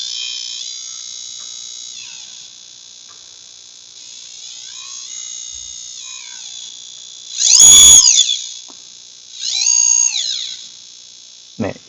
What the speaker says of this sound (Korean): 너무 시끄러우니까 부저만 되지 않도록 하도록 할게요